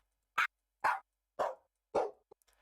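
Four sampled dog barks played as notes on a dog piano, evenly spaced and each a little lower in pitch than the last, then a couple of faint short blips.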